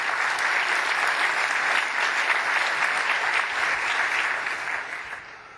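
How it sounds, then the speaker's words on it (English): Audience applause at a TechEd Europe 2012 conference session on ASP.NET: a full room clapping steadily and loudly without a break, fading out over the last second or so. "Go ahead and get a good round of applause for all the people at TE 12,"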